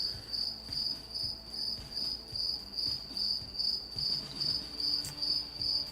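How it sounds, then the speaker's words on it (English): Steady insect-like cricket chirping plays as an inserted sound effect, a regular pulsing trill repeating evenly throughout, fairly faint and alone with no talk. "all I heard was crickets."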